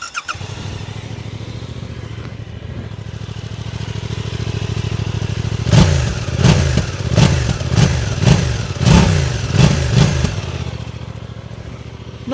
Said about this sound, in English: that is a perfectly nice sounding exhaust